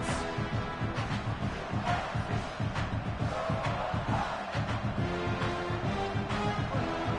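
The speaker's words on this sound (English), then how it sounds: "This crowd, full throat, spreading the eardrums and letting him know it's going to be a long day." A stadium crowd roaring at a football game, a thick sustained wall of voices and cheering with surging swells, fairly distant and steady throughout.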